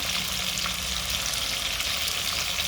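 Live river tilapia fries in hot oil with a dense, steady, close crackling sizzle throughout. No one speaks.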